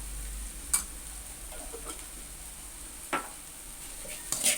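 Leftover chapathi noodles being stirred and mixed in a pan with pepper powder, a faint steady sizzle broken by a few soft scrapes of the spoon, no voices.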